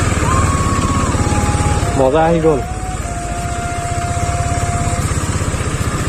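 A motorcycle climbing a steep hill road at Nagaon Heaven Hills in Assam, its engine humming steadily close by with a brief shift in pitch partway through, while someone speaks over it.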